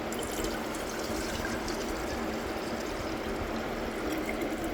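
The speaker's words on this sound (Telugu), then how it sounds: "మనం మూత తీసుకుని ఇందులో వాటర్ వేస్తామండి" Water pours steadily into a mixer jar of churned butter, a continuous soft splashing stream at moderate volume with no voices.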